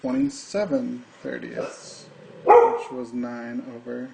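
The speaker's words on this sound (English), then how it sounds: "Sorry about my dog." A pet dog barks in a home, several short sharp yaps scattered through the clip while a person keeps talking over them.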